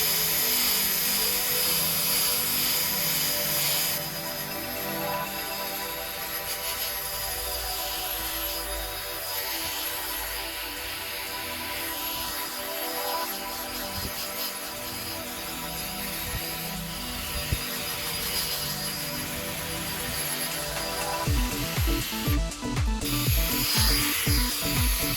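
Car scratch remover buffed into paintwork, giving a steady rubbing, whirring drone that runs the whole time, with coarser, busier texture near the end.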